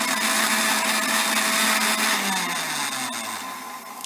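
An electric blender whirs loudly and continuously while blending milk, sugar and Rooh Afza into a milkshake. The motor pitch sinks as it winds down at the end.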